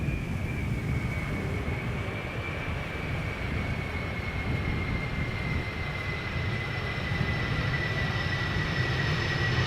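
A 33-year-old airliner arriving from Madrid on the Polderbaan at Amsterdam Schiphol on a hot, sunny day roars with a sustained, loud jet rumble and a steady high engine whine that slowly falls in pitch.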